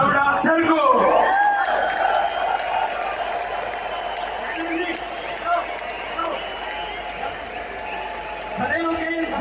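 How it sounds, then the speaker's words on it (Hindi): Applause and cheering from an audience at an RCM motivational event in Noida, honoring CMD Saurabh Chhabra, forming a dense, steady roar that lasts the whole stretch, with voices and occasional whoops mixed in. "खड़े होकर जोरदार तालियों से सम्मान करेंगे।"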